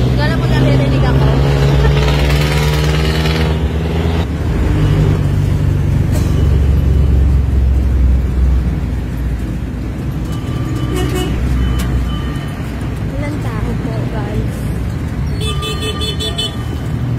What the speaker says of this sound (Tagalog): sa jeep na kami.